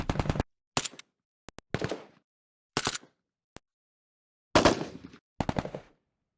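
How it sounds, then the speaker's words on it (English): Processed assault-weapon gunfire samples play as bursts of sharp automatic shots and single cracks with short decaying tails, each separated by silence and heard alone without talk. "it's difficult to make a good gun sound if you've not got the samples. AWCK, so that's assault weapons."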